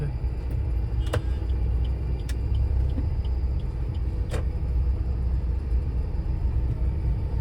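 Road traffic at a busy spot where vehicles turn, with a steady low rumble of passing cars and engines throughout and a few faint clicks and ticks on top, no talking.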